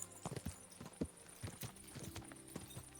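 Horse hooves clip-clop in a steady walking rhythm from a fast, sturdy horse in the medieval game Kingdom Come: Deliverance II, close and clear over faint background ambience.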